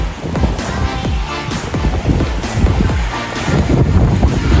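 Strong wind gusts buffet the microphone at a stormy shore in Pugad Lawin, Pagbilao, Quezon, with surging waves rolling underneath in a loud, continuous roar.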